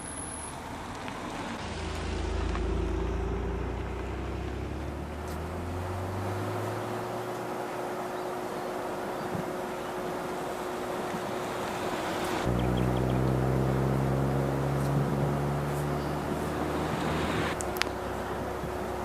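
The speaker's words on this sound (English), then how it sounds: "Great to see all these classic cars out and about, rallying around the countryside." Classic MG cars on a countryside rally pass by, their engines rising and falling in pitch as each one approaches and recedes, over steady road and wind noise at moderate distance.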